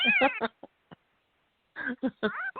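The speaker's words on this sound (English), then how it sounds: "has a new baby kitty" A days-old orphaned baby kitten held on a lap gives thin, high mewing cries, with faint short squeaks in between, heard alongside nearby voices.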